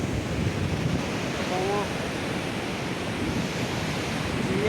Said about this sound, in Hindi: बहुत बड़ा बड़ा वेव उठती हुई